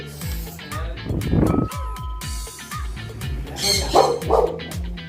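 A small dog barks and yips repeatedly nearby, with rhythmic music playing in the background and brief indistinct voices.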